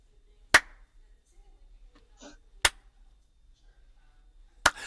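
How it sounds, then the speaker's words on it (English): Three sharp, isolated hand claps spaced about two seconds apart in a slow, deliberate rhythm, close and loud against a quiet background with faint murmurs between. "Super duck lip slow clap."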